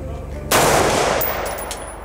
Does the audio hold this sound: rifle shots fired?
yes